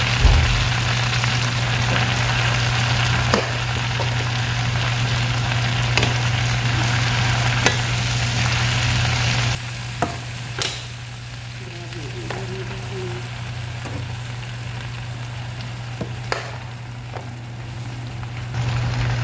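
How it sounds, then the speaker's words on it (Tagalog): Jute leaves (saluyot, molokhia) sautéing in a pan, a steady close sizzle and frying hiss that drops lower partway through as more leaves go in, with a few sharp clinks and stirring scrapes. "ilalagay na natin ang ating saluyot pakunti-kunti"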